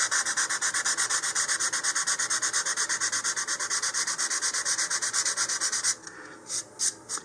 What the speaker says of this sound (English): just use some fine sandpaper, anywhere from 100 to 220